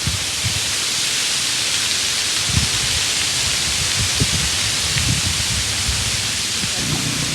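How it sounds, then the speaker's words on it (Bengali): Steady morning rain pours down outdoors as a dense, even hiss, with heavier drops and patter striking leaves and surfaces close by throughout; no voices. "সকাল সকাল বৃষ্টি এসে গেল"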